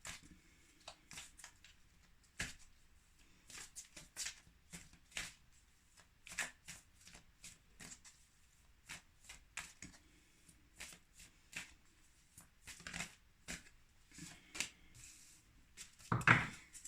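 Oracle cards being shuffled by hand, a long run of crisp riffling and slapping card sounds in irregular bursts, close up and alone with no speech, ending on a sharper louder flick.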